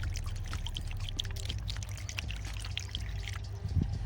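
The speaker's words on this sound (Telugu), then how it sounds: "మనకి ఎంత కావాలనిపిస్తే అంత నీళ్ళు పోసుకోవాలా" Water, about a litre, poured into a solar insect trap set out among crops: a steady, continuous pour over a low rumble, close by and without speech.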